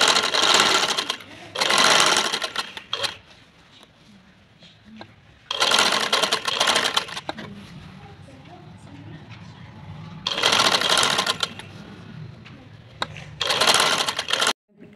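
A sewing machine stitches the lining of a fairy-style frock or maxi dress, running in loud bursts of a few seconds each with quieter pauses between them. A person talks during the pauses.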